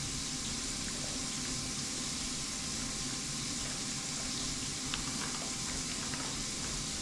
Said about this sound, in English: So I have my cold water on.